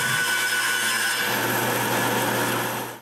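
A power saw cuts through a wooden mold built for a pair of coat racks, a loud, continuous whining buzz held steady for about three seconds before it cuts off.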